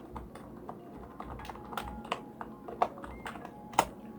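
Computer keyboard typed on in a quick irregular run of close, crisp key clicks with a few louder taps, steady and alone without any voice.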